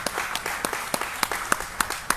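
A crowd claps steadily, with sharper individual claps landing in a fairly regular rhythm over the background applause.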